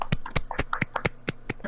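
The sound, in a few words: hand clapping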